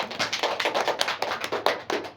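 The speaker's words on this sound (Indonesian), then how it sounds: "Berikan tepuk tangan buat Mbak Hana" A small classroom group claps for a student, a few close hands tapping out uneven, overlapping claps in a short, moderately loud burst with no talking over it.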